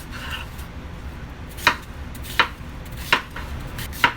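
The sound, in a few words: knife chopping cucumber into chunks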